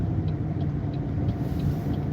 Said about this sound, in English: It's just really heavy, dense traffic.